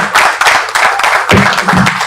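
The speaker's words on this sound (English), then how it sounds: "Let us continue with the organic round of applause" Crowd applause at a launch event for a Nigerian television channel: a steady, dense wash of clapping from many hands, fairly close and loud, rolling on without a break for the whole stretch.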